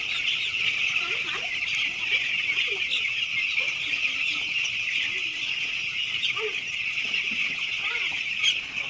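A large flock of chickens on a poultry farm clucks and chatters in a constant dense wash, with scattered individual calls over the steady din.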